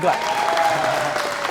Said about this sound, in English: Okay, we can clap now. You can clap.